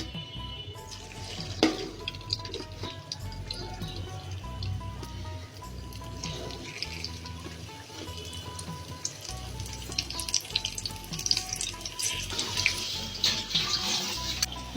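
Maggi pea pakoras frying one after another in hot oil in a preheated kadai, a steady dense sizzle and bubbling running throughout, close and fairly loud with a few brief clinks, no talking.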